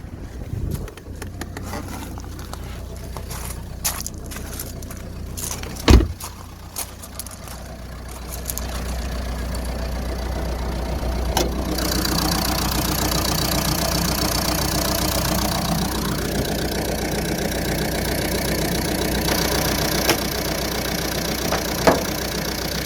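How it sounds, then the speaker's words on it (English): Ford S-Max engine ticking over at idle after a K-Seal head gasket repair, a steady low rumble with wind buffeting and a few clunks near the start, turning into an even, continuous drone that fills the rest of the stretch. "Started fine without any hesitation. There's no vibration. Seems like all 4 cylinders are firing nicely."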